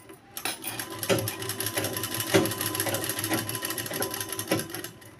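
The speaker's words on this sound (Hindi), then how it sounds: "इस तरह सिलाई कर लेंगे" An electric sewing machine runs steadily, stitching folded crochet trim onto a two-piece umbrella frock, giving a close, continuous whirring hum with a regular rapid needle rhythm and slight swells.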